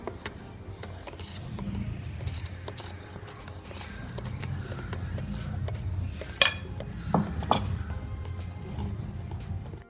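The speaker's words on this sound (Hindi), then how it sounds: "तो अब हम ये मैदा थोड़ा थोड़ा करके इसमें ऐड करेंगे और साथ ही हल्के हाथ से इसको हिलाते जाना है।" Flour is worked by hand into dry fruit cake batter, giving a soft, steady scraping with a few sharp clinks of a utensil against the bowl near the end, all at close range.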